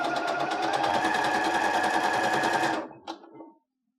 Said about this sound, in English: You're just going to follow the curve as you're sewing.